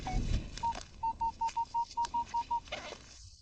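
A metal detector sweeping over a buried target on an old tract, sounding a run of about nine short, evenly spaced single-pitch beeps, clear and close, with faint background rustle.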